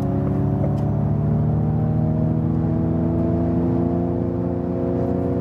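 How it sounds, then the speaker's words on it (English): A Ford Mustang Mach-E electric car in untamed mode plays its synthetic sound generator, a loud, steady layered hum and whir that slowly shifts in pitch as the car accelerates, with no talking. "you also heard this electric sound, you know, this sound generator then"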